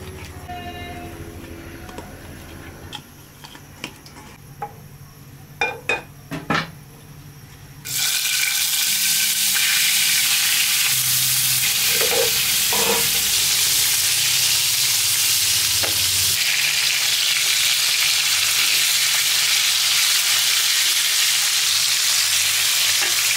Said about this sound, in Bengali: আমি এই তেলেই কুমড়ো বড়ি ভেজে নেব